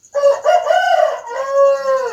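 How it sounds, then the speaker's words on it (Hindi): A healthy rooster crows close by, one long loud cock-a-doodle-doo of rising and held harmonic notes lasting about two seconds, with no other sound around it. "बाकी मुर्गा जो है अभी बहुत तंदुरुस्त है, सही सलामत है आप लोगों की दुआ से"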